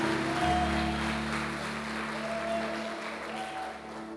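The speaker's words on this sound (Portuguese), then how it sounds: "Vamos aplaudir mais forte o Senhor por Edilei." Church congregation applauding steadily for a guest, dense sustained clapping with a low hum beneath and no voices over it.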